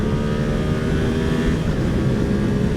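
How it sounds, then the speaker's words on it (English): A Yamaha R7 motorcycle engine revving hard after a downshift, a loud, continuous, close-up drone with a rising and falling pitch and wind roar, without any talk. "We're gonna downshift and rev her up a little bit."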